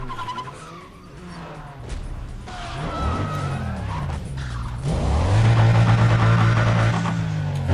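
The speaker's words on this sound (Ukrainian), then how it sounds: "О, розгін непоганий у цій тачки." A race car in Need for Speed: Undercover accelerates hard through rising engine revs and gear changes, with tire skids, loud and close throughout.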